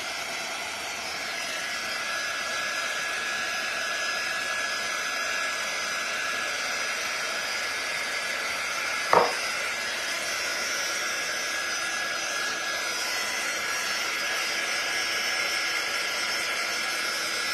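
A hair dryer blows steadily on a craft project, a loud continuous rushing whoosh running throughout, broken only by a brief click partway through.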